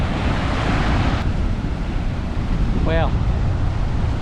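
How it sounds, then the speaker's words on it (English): Big ocean swell rolls in and splashes over rocks along a limestone coast, a constant loud roar with wind buffeting the microphone and a brief exclamation from a voice. "Look at those waves rolling in. Splashing up over those rocks."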